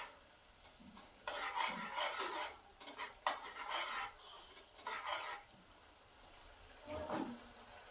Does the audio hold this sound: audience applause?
no